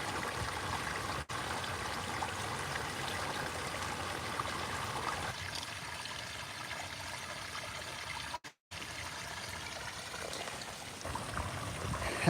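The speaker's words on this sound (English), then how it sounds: "here's a pondless waterfall in the front yard. Listen to that sound." A pondless waterfall in a front-yard landscape pours and splashes in a steady, continuous rush of water, close and full, with no voices.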